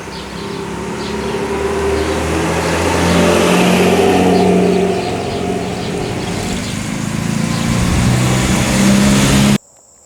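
An MGB sports car with a 4-cylinder, twin-carburettor 1800 cc cast iron engine runs loudly and close, its steady rumble rising and easing as it revs, then cutting off abruptly at the end.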